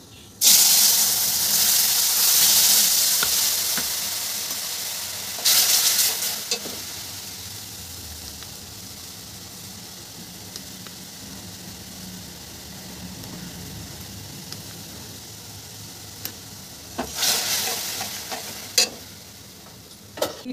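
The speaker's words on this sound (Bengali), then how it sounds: "এবার আমি মশলাটা ভাজা হয়ে গেছে, আমি এবার তেঁতুলের পালটা দিয়ে দেবো।" Tamarind pulp added to hot frying spices in a pan bursts into a loud close hiss and sizzle that settles into a quieter steady frying, with scattered stirring clinks and another sharp sizzle later.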